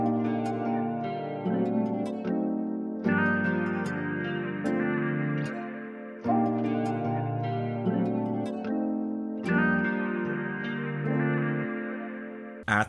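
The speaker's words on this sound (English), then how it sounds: "Then I went to Splice for a vocal sample." A vocal sample, untouched before recording, plays alone as sustained harmonic sung tones with effects and echo, shifting pitch in phrases roughly every three seconds, with no talk over it.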